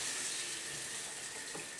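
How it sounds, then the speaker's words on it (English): A kitchen or bathroom faucet runs at full flow on a water system boosted to 80 PSI, giving a steady, soft, even hiss of rushing water throughout, fairly quiet and with no voices. "So I'll go ahead and turn the water on"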